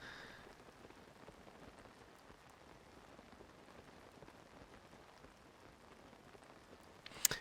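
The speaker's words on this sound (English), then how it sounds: "you can hear the rain sounds on the paraglider" Steady rain pattering on a paraglider canopy while gliding in Zelda: Tears of the Kingdom, a soft continuous hiss of drops with a brief sharper burst near the end.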